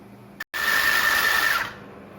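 A mini sewing machine being reassembled after a jam repair gives off a steady, loud mechanical whir with a high whine for about a second, right after a brief click and a short pause, then stops.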